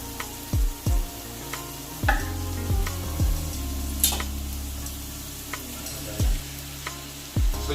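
Sliced purple cabbage fries in oil in a pan, a steady sizzle broken by repeated dull knocks and clacks of a utensil against the pan, close up with no talk.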